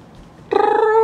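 A female cat gives a single drawn-out meow with a rising, chirpy, parrot-like tone, close and clear after a brief quiet moment.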